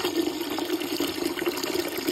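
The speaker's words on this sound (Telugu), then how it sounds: "ఒకటికొకటి కప్పుల చొప్పున మనం వాటర్ కూడా పోసుకొని" Water pours steadily into a pressure cooker while mutton haleem is being cooked, a continuous close rushing and splashing fill with no talk.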